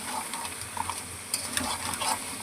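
Crab stirred and fried with spices in a pan: loud, close sizzling with scraping, clattering strokes of a spatula as the pieces are turned, no voices.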